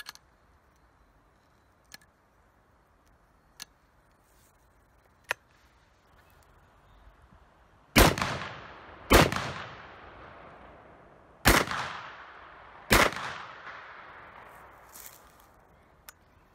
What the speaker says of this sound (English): This is the Vierling Rifle.